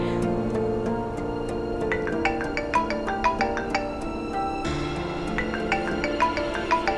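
Mobile phone ringtone playing at night in a Turkish drama, a repeating melodic tone with rhythmic pulses going on for several seconds over a low background hum.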